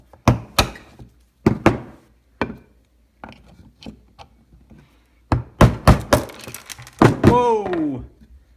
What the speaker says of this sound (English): take a little screwdriver and pound that out. Just tap that out.